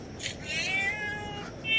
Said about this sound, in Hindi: फ़ोन में बिल्ली की आवाज़ निकालते हैं।